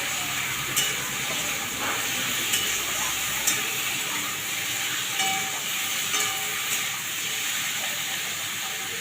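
Chicken pieces lightly frying in a pan for a home-cooked chicken stew, giving off a steady, even sizzling hiss that runs unbroken throughout with no voices over it.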